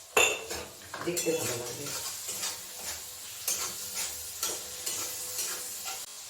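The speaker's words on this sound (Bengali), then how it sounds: "টমেটো কুচিয়ে নিয়েছি, এটা দিয়ে দিচ্ছি।" Chopped tomato goes into a pan with light sizzling, followed by a metal spoon scraping and clinking against the cookware in irregular stirring strokes, with a brief spoken remark.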